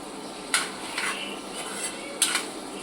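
A spoon stirs ivy gourd curry in a pan, a few sharp metallic scrapes and clinks against the pan, close and alone over a quiet background.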